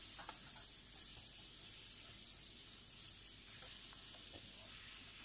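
Ground beef going into a pan with beans and red curry paste for a Thai dish: a steady, faint sizzling hiss of oil with a few soft stirring scrapes, continuous throughout.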